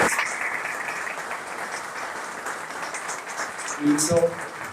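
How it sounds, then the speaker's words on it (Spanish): Audience applause honoring a banknote designer at a lecture on Cervantes, a steady spread of moderate clapping from a crowd, with a brief voice near the end. "Un aplauso para él."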